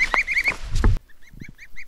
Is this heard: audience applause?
no